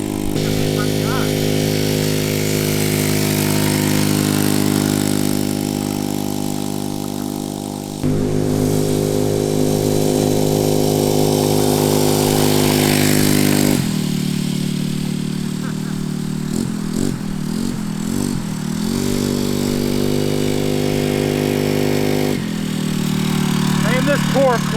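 Cheap Amazon pocket bike fitted with a swapped-in racing engine, ridden in a field: a loud, high-revving buzz that rises and falls steadily throughout, close by, with brief shifts in pitch as the throttle changes.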